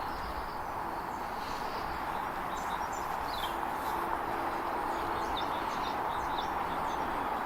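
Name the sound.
birds singing in a quiet abandoned cemetery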